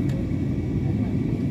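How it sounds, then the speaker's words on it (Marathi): Cabin noise inside an airliner flying from Mumbai toward Srinagar during the monsoon: a loud, steady, low engine and airflow rumble with no breaks, continuous throughout. "विमान जाताना हे आपल्याला दिसतंय."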